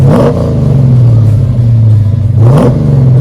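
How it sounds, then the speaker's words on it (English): Ford XC Falcon with a stroker engine and new exhaust revving loudly up close, a steady deep idle rising into two sharp throttle blips at the start and near the end. "And a new exhaust system. Yeah, it sounds bloody great."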